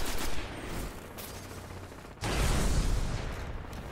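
Rapid gunfire from an online multiplayer shooter game comes in loud, dense bursts, with a sharp jump in intensity partway through and no talking.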